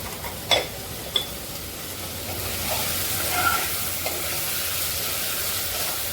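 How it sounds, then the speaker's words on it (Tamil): Chopped tomatoes with salt sautéing in a clay pot, a soft steady sizzle and hiss with a couple of sharp utensil clinks near the start, fairly quiet and close. "இதில் கொஞ்சம் உப்பு போட்டு வதக்கிக்கலாம்."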